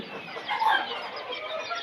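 Young Fayoumi chickens, about three and a half months old, clucking on a poultry farm, a steady close chatter of hens with one brief louder call near the middle.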